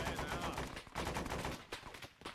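Dense gunfire in a military video game firefight, a rapid overlapping burst of shots filling the whole stretch with only brief dips, loud and close.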